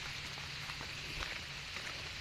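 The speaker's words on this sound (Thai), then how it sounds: "โอ้ฝนแรงขึ้นเลยเอฟซี" Steady heavy rain hissing down on surfaces during a morning walk, a continuous wash of noise with scattered drops, moderately faint and with no voices.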